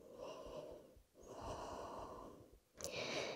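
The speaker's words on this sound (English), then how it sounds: "Two more breaths here." Slow, steady breathing during a yoga pose in a morning upper-body session, with two long inhale-exhale cycles separated by brief pauses and a sharper breath at the end, close and soft with no talking.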